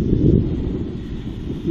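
Wind gusts around a hacked JD20 drone flying outdoors on SG900 props, a steady low roaring rumble buffeting the microphone throughout.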